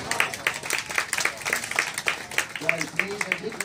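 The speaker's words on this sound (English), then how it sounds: "Applause for Manuel, first of all." Scattered clapping from a small group on a river cruise ship, uneven and close, with a voice speaking over the applause partway through.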